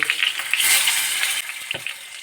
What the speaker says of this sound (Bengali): আমি বাকি পটলগুলোকেও ভেজে নেব